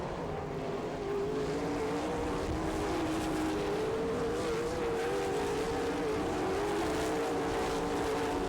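All Stars sprint cars race at Attica, Ohio, with a loud, continuous engine roar whose pitch rises and falls steadily as the leading pair pulls away, with no break for the whole stretch.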